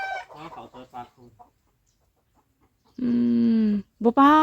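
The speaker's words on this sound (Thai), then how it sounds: "ไก่มันใหญ่มึงดูพี่น้อง" A large farm chicken clucks close by, a bright drawn-out call followed by a short second cry, after someone speaks briefly and a quiet pause.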